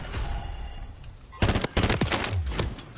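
Gunfire in the video game Call of Duty: Modern Warfare 3 during online multiplayer, with bursts of loud close shots and rapid clusters of cracks over a busy background of game noise.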